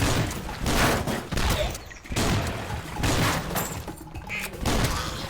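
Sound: gunfire in video game Swamp Attack

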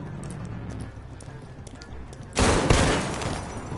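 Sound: gunshots from a video game

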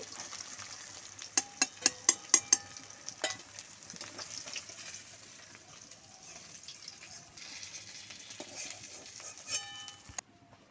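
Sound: pangas fish frying in a pan

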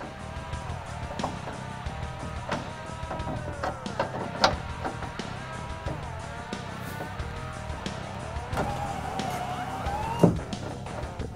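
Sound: power window motor moving window, 1965-1968 Mustang

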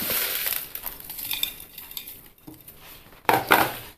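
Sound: rock salt being put over raw baby mangoes

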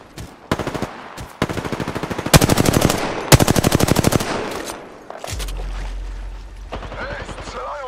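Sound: machine gun fire in a video game

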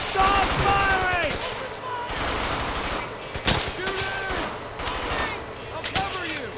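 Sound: gunfire from video game Brothers in Arms Hell's Highway

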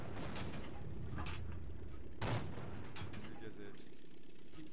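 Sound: tank cannon shots in the video game World of Tanks

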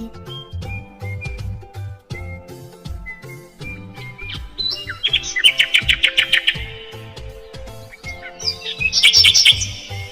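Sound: nightingale song

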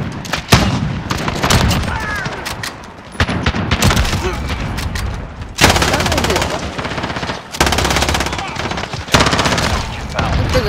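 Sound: sniper rifle gunfire in Modern Warfare video game

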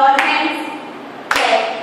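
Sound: children clapping hands to music

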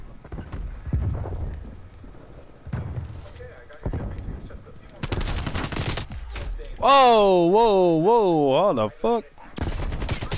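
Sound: AK-47 gunfire in a video game

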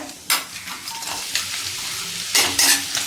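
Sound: ground masala and cumin sautéing in hot oil

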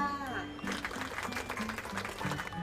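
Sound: applause

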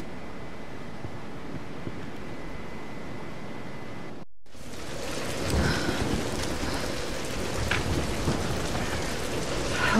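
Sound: thunderstorm with rain in the video game Tomb Raider

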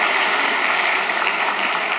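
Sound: church congregation applauding

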